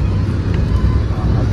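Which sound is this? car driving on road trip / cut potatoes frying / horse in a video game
car driving on road trip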